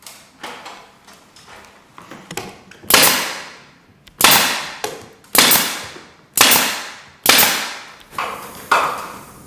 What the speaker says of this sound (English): We use an 18 gauge brad nail and we shoot in a V pattern.